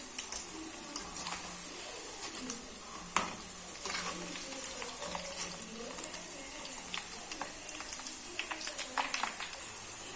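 Batter-coated cauliflower for gobi manchurian deep frying in hot oil, a faint steady sizzle with scattered crackles and small clicks throughout.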